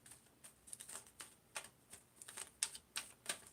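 Tarot cards being shuffled in soft, irregular bursts of quick papery riffles and taps, faint and close, with no voices.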